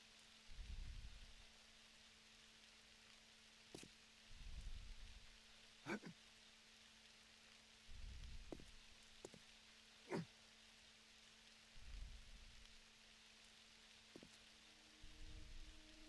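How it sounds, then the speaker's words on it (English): Rain falls in 7 Days to Die as a faint, steady patter beneath a quiet ambient hum, with occasional sharp clicks and soft low thumps recurring every few seconds. "Oh, it's raining."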